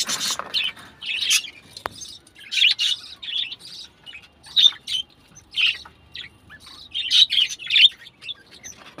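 Repeated bright bird chirps and tweets in short bursts, several breeding colony birds calling close by with brief pauses between.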